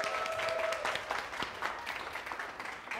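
A school class in a Form 4 physics lesson claps for classmates, a burst of scattered applause that thins out over a few seconds.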